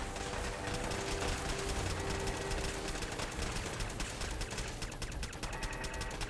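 Automated turrets blaze away in a Fallout 4 Sim Settlements firefight, a dense, continuous rattle of rapid gunfire at moderate distance with no pauses across the stretch.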